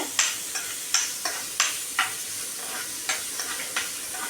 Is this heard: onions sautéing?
yes